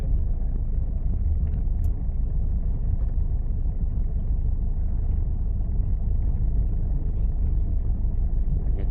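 A car driving along a road, with a steady, continuous low engine and road rumble throughout and no voices.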